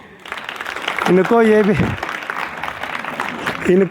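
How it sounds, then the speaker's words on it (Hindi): Students in a classroom clap together in a short burst of applause, loud and close, with a teacher's voice speaking over it before and after. "बहुत सही, जोरदार ताली"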